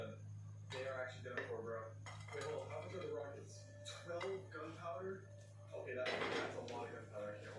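Utensil scrapes and clinks against a bowl as melted butter is stirred into a homemade cassava cake batter, close and fairly steady, with someone talking over the stirring.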